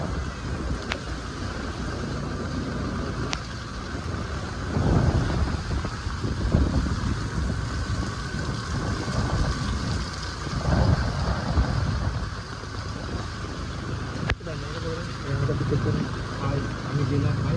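Wind buffets the microphone at a seashore in Satpati village near Mumbai during heavy rain, with a continuous roar of surf and rain surging and easing, and brief knocks.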